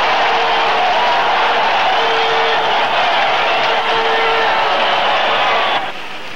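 A football crowd at a stadium roars and cheers continuously after a Criciúma goal in 1986, a dense, sustained wall of noise that fades slightly at the end.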